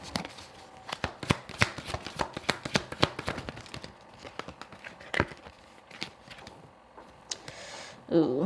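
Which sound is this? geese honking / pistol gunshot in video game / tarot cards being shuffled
tarot cards being shuffled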